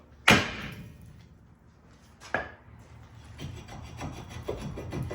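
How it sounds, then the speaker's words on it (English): Two sharp metallic hammer blows strike a few seconds apart to knock a rusted brake rotor off a 2012-2020 Ford Focus, followed by lighter scraping and clinking of metal parts. "all you're gonna do is do a nice little hammer blow"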